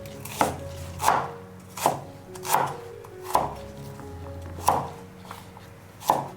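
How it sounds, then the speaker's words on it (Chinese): Knife chopping shallots, ginger and garlic into small pieces on a board, seven distinct, close, evenly spaced chops in slow rhythm. "再来准备一些料头，把小洋葱跟姜、蒜都切成粒"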